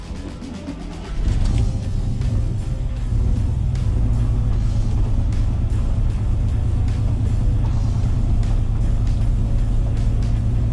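A Chevrolet squarebody pickup truck on new tires rolls along in a steady, close low engine rumble that swells slightly after the first second and holds continuously, with no voices.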